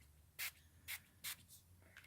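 Shimmer mist spray pumped onto a gelli plate in short hissing bursts, three clear sprays then a softer fourth and a faint fifth, close and alone over quiet background.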